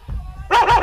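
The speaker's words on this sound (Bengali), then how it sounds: "কুকুর ডাকছে কেন?" A dog barks twice in quick succession, loud and close, after a quiet lead-in with faint low rumble beneath.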